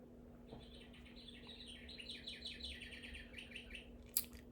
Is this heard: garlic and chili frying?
no